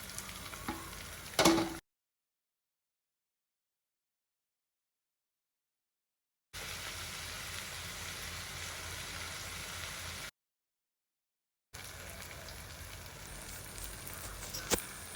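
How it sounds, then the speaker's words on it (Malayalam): Onion and tomato frying in a pan and being stirred for chicken biryani. A steady, soft sizzle plays in short stretches separated by silent gaps, with no talking over it. "അപ്പോൾ സവാള ഒന്ന് വഴന്നതിന് ശേഷം തക്കാളി ഇട്ട് കൊടുക്കുക. തക്കാളി ഇട്ട് നല്ലപോലെ ഒന്ന് ഇളക്കി കൊടുക്കുക."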